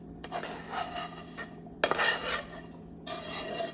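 Chickpeas scraped and scooped out of a metal sauté pan for a vegan beet salad, three bursts of clattering, rasping spoon-on-pan scraping separated by brief pauses, close and moderately quiet.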